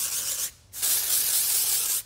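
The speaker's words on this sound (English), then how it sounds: "I'm just gonna spray the wig to mattify it." IGK dry shampoo sprays onto a wig in two loud, close aerosol bursts, a short hiss, a brief pause, then a longer steady spray.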